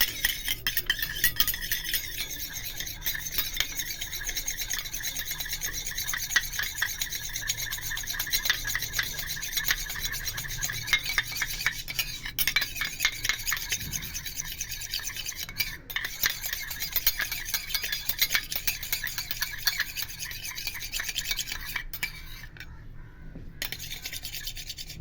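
Homemade face cream of rice water, vitamin E and aloe gel stirred in a small bowl, making a continuous scraping, rasping rub of a spoon against the container that goes on steadily with a brief pause near the end.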